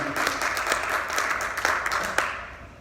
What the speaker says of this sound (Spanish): dale un aplauso al Señor Jesucristo fuerte y recio